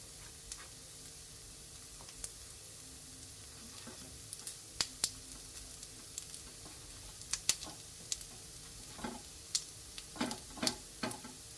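Appe sizzling in ghee in a covered appe pan for a fasting-day snack, a soft steady crackle under scattered sharp ticks and pops, close and fairly quiet, with no talk.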